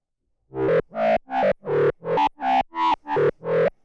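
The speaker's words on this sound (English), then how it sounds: "Even that sounds more like an electro bass than anything else." A Korg Volca Modular synthesizer plays a punchy electro bass patch: nine evenly spaced, buzzy notes in a steady rhythm after a brief silence.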